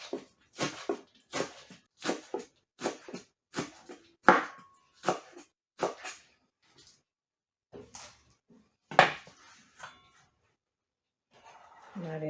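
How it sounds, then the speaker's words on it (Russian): A steady series of quick knife chops through green onion against a board, rhythmic and close, then a few scattered cuts with a brief pause. "Нарезали лук."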